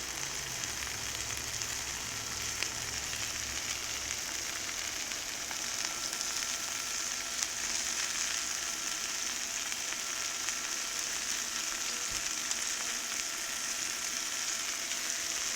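Skewered whole shrimp and garlic sizzle on a 360 XL griddle, giving a steady, even hiss of frying that runs unbroken and alone throughout at moderate level.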